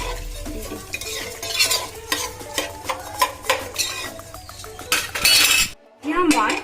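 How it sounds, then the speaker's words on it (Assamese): Rice being stirred with water in a pot while pulao is made from joha rice. Close, rhythmic scraping and sloshing strokes repeat every half second or so, with light metallic clinks, then a brief pause before stirring resumes. "এতিয়া মই এই চাউলখিনি পুৰ যোৱাকৈ পানী দি দিম লৰাই ভালদৰে দি দিম"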